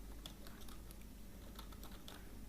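C programming code being typed on a computer keyboard: rapid, uneven clicks and key taps continue steadily at close range with no voice.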